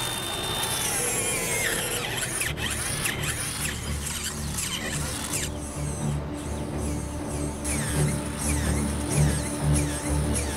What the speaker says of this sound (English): So you wanted to know if your power auger would work against a member of the undead?